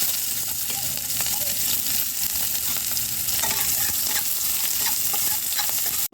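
Onion and dried chillies frying in mustard oil in a kadai, a dense, loud sizzle with steady stirring scrapes, heard up close and without a break until the very end.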